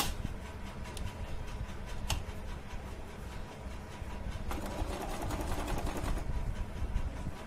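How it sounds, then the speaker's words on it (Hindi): Sewing machine stitching the side seam of a kurti, a steady fast mechanical whirr with ticking, continuous and close, no talking. "आप इस तरीके से पूरी सिलाई नीचे तक करते जाएंगे।"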